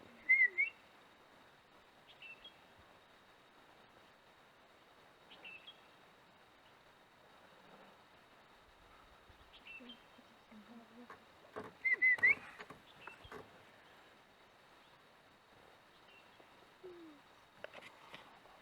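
A scimitar babbler calls in a Kumaon forest in Uttarakhand, giving short, faint whistled notes repeated every few seconds over a quiet background, with a louder burst near the middle.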